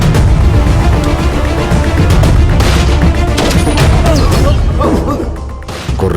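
Heavy gunfire in a movie gunfight scene, loud rapid bursts of shots and crashing impacts layered with music and effects, continuous to the end.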